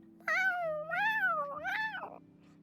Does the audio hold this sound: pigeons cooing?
no